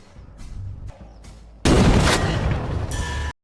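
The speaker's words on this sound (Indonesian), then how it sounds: "Mendengar suara tembakan, Baker segera berlari ke arah sumber suara" Loud burst of gunfire in a film scene about a legendary sniper on a final rescue mission, erupting after a quieter stretch with a couple of faint thuds, then a dense, sustained roar of shots that cuts off abruptly.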